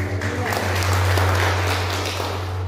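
A church congregation at a Sunday worship service breaks into applause, a dense wash of clapping that swells and holds over a low steady hum, with voices mixed in.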